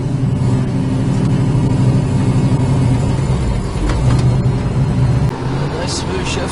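A 1969 Chevrolet Camaro drives along the road, its engine a steady, loud mid-range drone with road rumble and a brief shift dip near the end.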